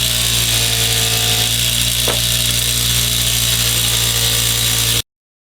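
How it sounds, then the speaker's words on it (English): Polishing wheel running on sanded stainless Norman pins, or cleats, from a Boston Whaler: continuous loud motor whine with a steady hum, a brief scraping touch midway, stopping abruptly near the end. "I'm going to go ahead and hit them with the polishing wheel again"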